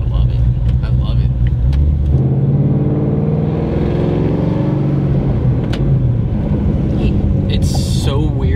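A supercharged Shelby GT500 pulls away and accelerates, its deep engine note rising into a loud, rising whine and roar heard from inside the car, then easing off.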